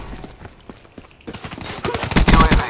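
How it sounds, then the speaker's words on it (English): Sentry gun fires in Call of Duty Black Ops 3, a loud rapid burst of automatic shots building toward the end after a quieter stretch of scattered game sounds. "Hardened sentry ready to deploy. Sentry opening fire."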